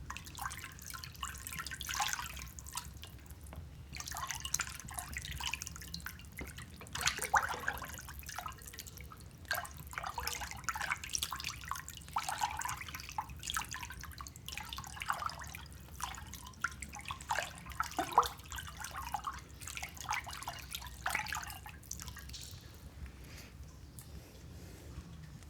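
Water rinses through hair at a barber's styling session and trickles and drips, a steady close flow with scattered drops and splashes that carries on for the full stretch without any talking.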